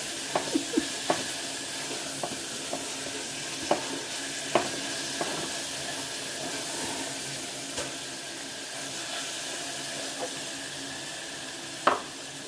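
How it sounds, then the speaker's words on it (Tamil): Onions and ingredients sautéing until golden in a pan for mushroom pulao, with a steady low sizzle and occasional sharp stirring clinks and scrapes scattered throughout. "நல்லா பொன்னிறமாக வதக்கிக்கோங்க."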